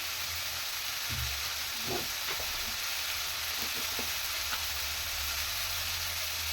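Spice mix with turmeric frying in a pan for bisi bele bath, a constant dense sizzle with a few soft stirring knocks near the start.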